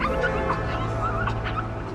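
Dogs whimper and yip nearby in a steady run of high, thin whines and short yelps over a constant low rumble of engine or traffic noise.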